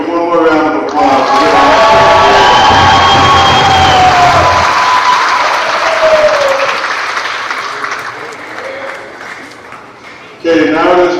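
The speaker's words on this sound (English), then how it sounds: "Give them one more round of applause." A high school graduation crowd in a hall breaks into loud applause with some cheering, following a speaker's voice, swelling then gradually fading before the voice returns.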